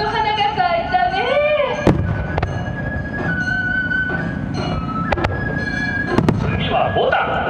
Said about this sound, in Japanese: ああ、菊の花火だ。